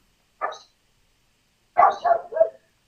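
A dog barking indoors, one short bark followed after a pause by a quick run of three barks, close and fairly loud against silence.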